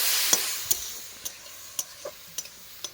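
Beef kala bhuna curry sizzles steadily in the pan as spices go in, with a soft hiss and sharp stirring clicks about three per second, close and clear.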